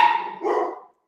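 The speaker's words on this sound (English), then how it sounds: "my dogs are going crazy because a neighbor across the street decided to have the audacity to shut the door" Dogs indoors give a single loud, close bark lasting under a second, then fall silent.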